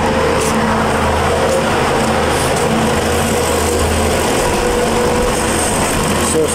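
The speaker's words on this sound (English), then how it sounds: "So it's the engine." A car engine runs at idle during a secondary air injection pump check, a loud steady whirring drone with a constant airy hum, close and unbroken throughout.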